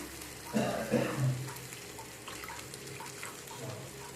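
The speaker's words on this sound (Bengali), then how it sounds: "এখন এর মধ্যে আমি দিয়ে দেব জল" Water poured into a pan of fried spices, a short burst of splashing and hissing near the start that settles into a quieter low simmering bubble.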